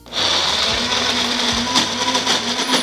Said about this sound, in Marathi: आता पाण्याचा अजिबात वापर न करता मिक्सरमध्ये याची छान प्युरी तयार करून घेऊया